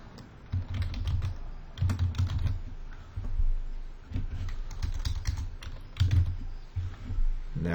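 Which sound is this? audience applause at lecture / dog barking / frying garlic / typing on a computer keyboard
typing on a computer keyboard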